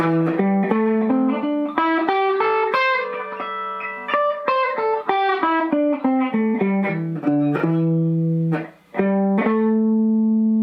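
An electric guitar plays a quick run of single notes up and down a minor pentatonic scale, clean and sustained, ending on a held low note.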